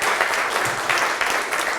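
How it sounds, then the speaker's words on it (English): A meetup audience at Melbourne CocoaHeads gives a brief, steady round of applause for the event organisers, close and continuous clapping with no talk. "give another round of applause to Jesse and crew for setting this"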